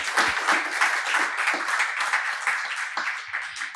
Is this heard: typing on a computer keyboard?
no